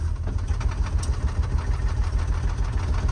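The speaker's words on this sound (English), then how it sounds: "the motor just shakes when it's idling" A 1958 Chrysler Hemi 6 in an Australian 1959 Wayfarer coupe utility idles with a steady, rough low rumble and shake from worn engine mounts, continuous and close, with no talk over it.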